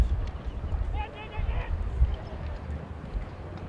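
Polo horses gallop during a match at The Villages, their hooves thudding in an uneven low drumming beneath a commentator's voice and a murmur of background noise.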